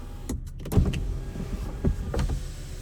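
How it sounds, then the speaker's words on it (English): An electric motor whirs briefly inside a BMW M440i xDrive as the sunroof slides open, with small mechanical clicks and cabin rustling around it. "we're going to open up this roof because it is so warm."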